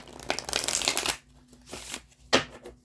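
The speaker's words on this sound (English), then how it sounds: "let me just shuffle these all real quick" Tarot cards are shuffled up close: a dense riffling burst, then a few softer rustles and one sharp snap near the end.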